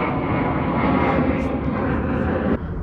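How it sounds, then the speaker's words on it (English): Airplanes flying overhead make a broad, steady roar that fills the clip, loud and continuous, then drops suddenly near the end as the sound cuts lower. "Planes."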